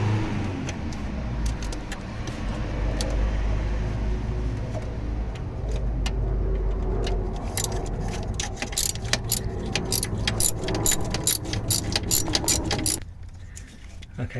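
Jubilee hose clip being undone on a Fiat 500 during a thermostat change, a steady rapid ratcheting click of a tool working the screw under a low background hum, close by, stopping near the end.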